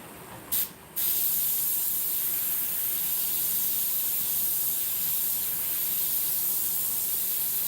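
An airbrush sprays paint onto a Baby Yoda figure's head to build up wrinkle-like texture. A short puff comes first, then a steady, loud, close hiss runs without a break, with no talking.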